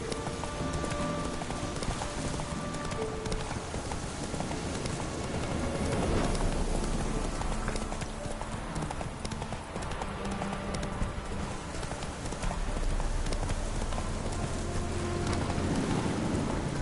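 Roach the horse trotting in The Witcher 3, a steady clip-clop of hooves close by over a constant rain-like wash, with no talk.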